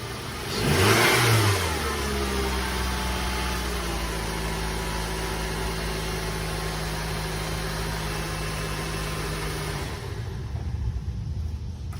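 A Nissan Sentra at a city auction, hooked to a jump box, cranks briefly and fires, then settles into a steady, close idle that rumbles on for about eight seconds before cutting off, with no voices.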